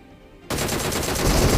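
Uzi fire in a video game erupts after a short quiet lead-in as a loud, dense, continuous burst of rapid automatic shots.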